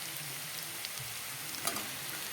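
Potatoes fry in hot oil for a breakfast dish, giving off a soft, steady sizzle with faint crackles and one brief clatter near the end. No one speaks.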